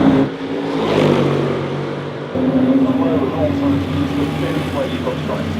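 Historic race cars in the pits at the Goodwood Revival produce a loud, continuous engine drone that rises in pitch as one revs, while someone talks over the noise up close.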